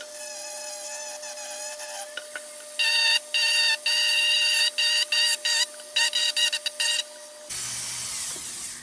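Scuffing the metal of an Embury Supreme No.40 lantern before tinning, heard as a bright, scratchy abrasive rasp in quick bursts, loud and close, with no talk.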